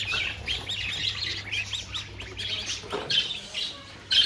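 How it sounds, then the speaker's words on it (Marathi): Ducks squawk and call over a steady low hum inside a mall, with several harsh, overlapping cries coming one after another at close range. "बदक."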